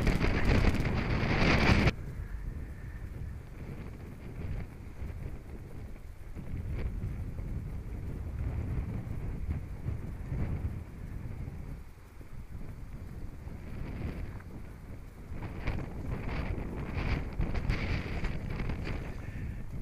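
Wind blows steadily across the Normandy coast near Goury, buffeting the microphone with a low, continuous rumble. A louder gust opens the sequence, and the blustery noise carries on throughout.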